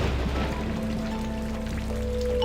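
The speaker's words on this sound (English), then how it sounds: "actually it sounds pretty cool when the rain is here." Steady rain pattering on surfaces in the online game Age of Cignare Online, a dense, even wash of drops that stays constant throughout, with faint soft tones from the game's music entering near the end.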